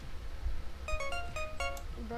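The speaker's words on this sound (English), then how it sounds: "pick up the trap phone" A phone rings with a short electronic ringtone, a few bright tonal bursts in the middle of the moment over steady background noise and some chatter.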